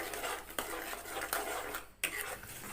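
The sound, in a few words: stirring pineapple jam with sugar in a pan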